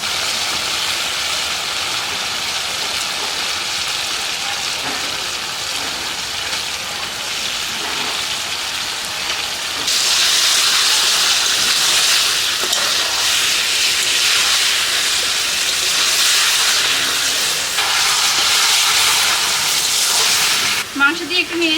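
Washed chicken meat drops into fried spices in a village kitchen, and a loud, steady hiss of sizzling and steam swells sharply partway through, then runs on as a dense rain-like crackle before a few clunks at the end.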